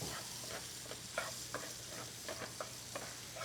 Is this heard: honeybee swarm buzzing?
no